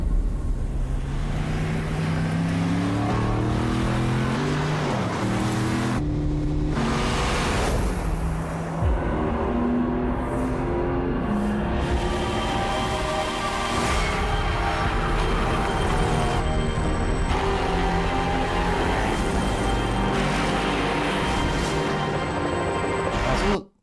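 A 2026 Aston Martin Vantage convertible roars loudly up close, its exhaust note climbing in pitch, dropping back and rising again through repeated gear changes for over twenty seconds.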